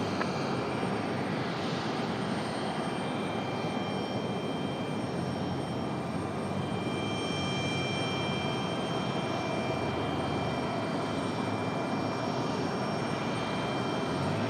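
A Boeing 737-700 jet departing the runway at Raleigh-Durham International, its engine roar a steady broadband rush held at a fairly constant level throughout, with no speech.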